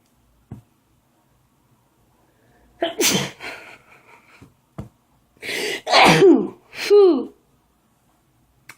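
A person sneezes several times in quick succession at close range, loud bursts with a sharp inhale and gasp between them, after a faint earlier sound, in a quiet indoor setting with no talk.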